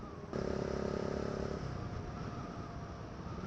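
A motor scooter engine buzzes close by, then settles into a steady road rumble as traffic passes.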